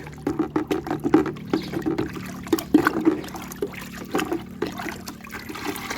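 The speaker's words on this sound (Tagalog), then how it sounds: "Tapos, haluin natin. Hanggang sa matunaw." Plant fertilizer being stirred into water until it dissolves, a soft trickling, sloshing liquid sound with irregular small splashes and clinks continuing steadily at close range, with no voices.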